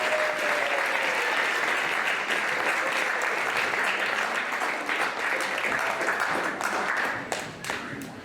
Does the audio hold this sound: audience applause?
yes